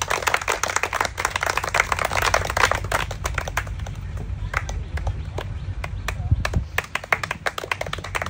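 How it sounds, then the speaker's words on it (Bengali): A crowd claps for a contestant who has walked across a wobbly banana-tree trunk in an odd village game of dropping a ball into a basket, with dense, uneven hand-claps throughout and people talking over them. "প্রথম কলা গাছ শেষ করেছে, সবাই একটা জোরে তালি হবে।"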